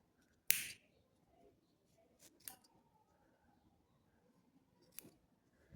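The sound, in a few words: cutting yarn end with scissors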